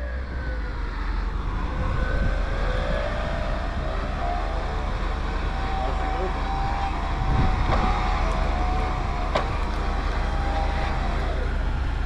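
A Mercedes G Wagon engine idles steadily off-road, a continuous low rumble with a faint rising whine running through it, moderately loud and close, with no talk over it.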